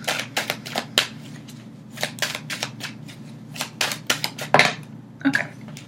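Tarot cards are shuffled and handled in a series of crisp, close riffling and snapping bursts, irregular in rhythm, with brief pauses between flurries.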